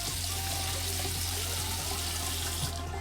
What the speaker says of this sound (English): Rinse off my face with some cold water.